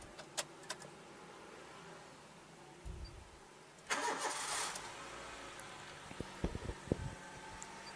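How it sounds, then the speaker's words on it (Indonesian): A 2012 Honda Brio E started from inside the cabin: a few faint clicks, then the starter cranks and the engine catches and settles into a quiet, even idle, with light taps and clicks near the end. "Kita nyalain mesin dulu ya, sekalian nyobain AC."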